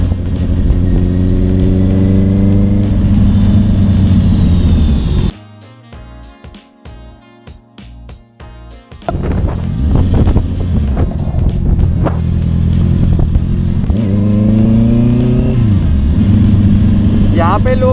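A vehicle passes very close to a moving motorcycle on an Indian road, heard as a rising engine drone and rush over heavy wind noise. There is a brief muffled dip partway through, then the loud riding noise returns.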